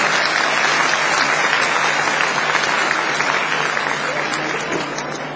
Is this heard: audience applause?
yes